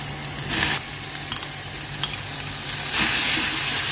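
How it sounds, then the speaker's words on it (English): Spinach paste fries in a pan with a steady, close sizzle, while a spoon stirs it in scraping bursts. No one speaks. "Fry for 3 minutes"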